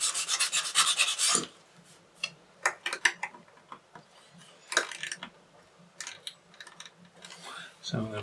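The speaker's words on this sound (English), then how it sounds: "And then with your sandpaper, just kind of sanding that chamfer." Sandpaper rasps along a chamfered edge on the wooden keel of a 1:200 OcCre Prinz Eugen model ship, a dry scratchy rubbing in short bursts and strokes, close up, with small ticks and pauses between.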